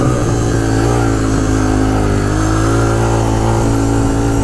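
A Honda 400EX quad fitted with stage 2 Hotcams revs hard and steady at close range, the engine note holding loud and continuous as it shifts up through the gears.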